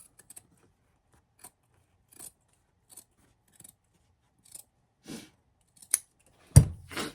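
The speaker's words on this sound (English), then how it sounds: "So I'm just cutting out that middle." Scissors snip through fabric for patchwork pants in a quiet room, a series of short, sparse cuts that grow more frequent and louder toward the end.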